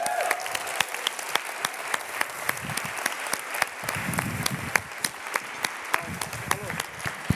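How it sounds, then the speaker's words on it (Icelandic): Church congregation applauding a band at a worship service, steady crowd clapping with a few sharper individual claps standing out, and voices and music faintly underneath. "við skulum gefa þeim gott klapp"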